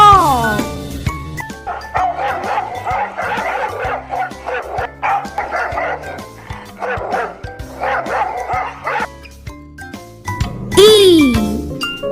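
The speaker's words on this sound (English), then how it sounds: "D for dog." A dog barks and yips several times, loud and close, over a tinkling children's tune with a voice speaking.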